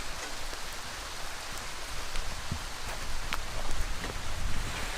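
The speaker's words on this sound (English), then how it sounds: "since it's raining" Steady rain falls outdoors around an abandoned truck, a dense continuous patter with scattered louder drops close by, with no voices.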